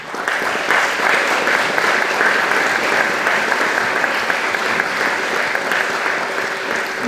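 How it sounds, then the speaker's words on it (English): A seated audience at a Maunakea future panel gives the speakers steady, full applause, a dense wash of clapping that holds evenly for about seven seconds with no voices over it. "Please again another round of applause for Hawane Rios, Ruth Aloua, and Doug Simmons."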